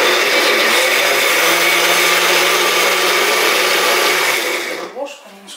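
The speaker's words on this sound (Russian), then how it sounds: "Все, значит, в блендер и" A loud, steady blender whirs continuously for several seconds blending strawberries into sauce, then winds down and stops, leaving a few faint clinks.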